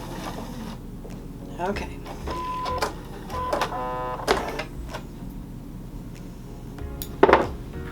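A sewing machine chain piecing quilt patches, running in short whirring, clattering bursts with mechanical ticks and a sharper clack near the end, over a low steady hum; a voice speaks briefly.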